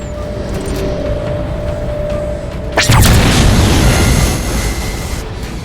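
A heavy boom as an explosion strikes the Mammoth vehicle in the Halo 4 video game, a sudden loud blast rising over a steady droning game soundscape and then rumbling on for a couple of seconds.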